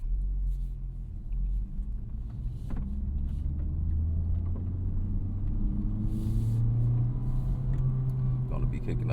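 A 2024 Honda Civic Type R on summer tires rolls along a rough, cratered road, its steady low engine and road rumble droning continuously from inside the cabin with no pauses.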